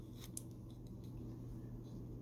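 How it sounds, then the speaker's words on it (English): Scissors make a few quick, close snips, cutting paper on an angle for a holiday card project, soft and crisp against a quiet room. "I'm just going to take my scissors and we'll cut these on an angle"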